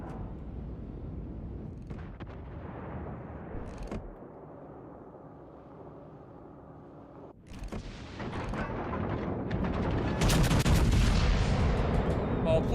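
Heavy naval gunfire from battleship guns in World of Warships Legends, with booming blasts and rumbling shell impacts that build and grow louder toward the end of the stretch, alongside game sound effects.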